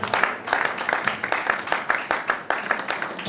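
An audience at a church gathering applauds a bishop with steady, dense clapping that carries on without a break, fairly close and moderately loud, with some voices mixed in.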